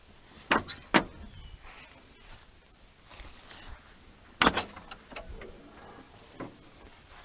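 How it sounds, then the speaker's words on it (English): Hood of a Land Rover Series 3 with a V8 conversion and gas struts opening, a few sharp metallic latch clicks followed by lighter clunks and a faint creak, close by with no talking. "Go ahead and open the hood."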